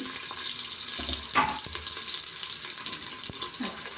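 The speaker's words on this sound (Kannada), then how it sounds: "ಎಣ್ಣೆ ಹಾಕಿ ಸಾಸಿವೆ ಹಾಕಿ ಸಿಡಿದ ನಂತರ ಕೊತ್ತಂಬರಿ ಸೊಪ್ಪು, ಈರುಳ್ಳಿ" Onions and coriander leaves fry in oil with mustard seeds in a pressure cooker, giving a constant bright sizzle dotted with small clicks and a brief louder scrape of stirring.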